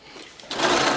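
A sewing machine stitching elastic onto a cloth diaper, quiet at first then breaking into a fast, loud mechanical whir as stitching starts, close up with no voices.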